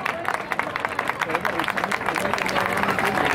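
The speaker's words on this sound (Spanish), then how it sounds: "Aplauso para el maestro Alberto Avendaño" Audience applause at a Christmas concert in San Pedro, honoring a musical saw player: dense, steady clapping from a crowd, building slightly louder over a few seconds with some crowd murmur mixed in.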